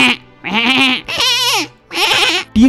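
Goats bleat loudly while tugging at leaves in a Hindi bedtime story, four long wavering bleats in close succession with brief pauses between them and no talking.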